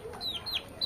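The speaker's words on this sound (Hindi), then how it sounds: "ये मुर्गा है, मुर्गा भी काफी सुंदर है, बहुत बड़ा है" A rooster at Itanagar zoo in Arunachal Pradesh gives brief clucking calls, a couple of short high squawks close by over faint outdoor background.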